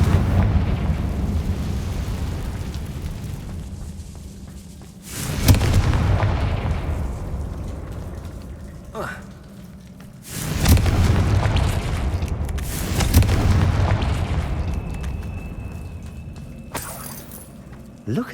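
Confringo blasting spells explode in Hogwarts Legacy, with three or four loud booming bursts spaced several seconds apart, each decaying into a rumbling tail, and a character speaking between them.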